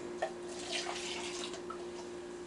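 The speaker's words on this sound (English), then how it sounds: "We're going to pour off this broth into it." Beef broth from a pepper steak freezer meal is poured into a cup in a home kitchen, giving a steady, close liquid trickle and splash that runs unbroken for a couple of seconds with no talking.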